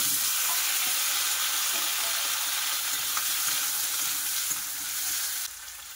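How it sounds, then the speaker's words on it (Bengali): Potato curry with chopped onion and five-spice sizzles loudly in a pan, a dense, steady close-up frying hiss that runs unbroken and eases slightly just before the end. "তরকারি কষা হচ্ছে"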